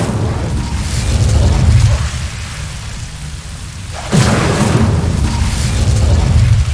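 Incendio fire spell cast in the Hogwarts Legacy video game, heard as two loud, booming whooshes of flame, one at the start and a second bursting in after a brief lull, each followed by a rushing roar.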